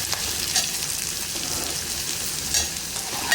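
Onion, tomato and chilli cooking in a pan give an even, soft frying hiss throughout, with a couple of faint stirring scrapes and no speech.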